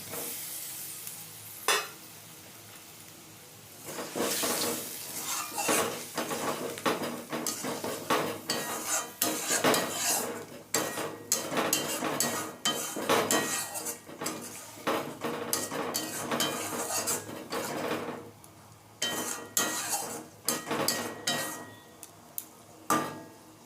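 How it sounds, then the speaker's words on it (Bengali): Paneer is added to boiling gravy in a pan for dhoniya paneer, and a bubbling sizzle plays under repeated scraping and clinking of a spoon stirring against the pan, with no voices. "ঝোলটা ফুটে গেছে এবারে আমি পনিরগুলো দিয়ে দিচ্ছি"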